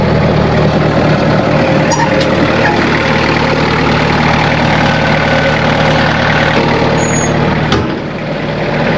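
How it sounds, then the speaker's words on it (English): A skid steer engine runs close by with a heavy, continuous rumble that holds steady throughout and dips slightly near the end as it bogs down under light load. "I'm really not hardly working the machine, and the thing bogs right down to where it does just about want to quit."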